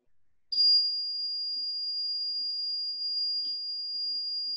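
After arming, a burglar alarm system sounds a sudden, piercing electronic tone that holds steady and shrill for several seconds, alone apart from a faint low murmur.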